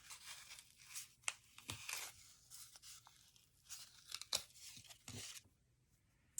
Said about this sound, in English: now I'll reach in and tear out the card along the perforations that were made by the sewing.